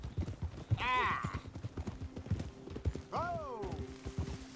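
Steady horse hoofbeats in the video game Red Dead Redemption 2 clip-clop at a walking pace while the horse whinnies twice, once early and once later, fairly close.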